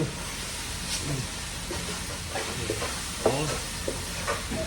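Holy basil shrimp with chilies is stir-fried in a hot pan in a Thai kitchen, with steady sizzling and hissing and repeated scraping stirs of the spatula, close and continuous.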